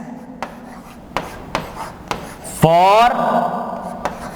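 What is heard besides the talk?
writing on a board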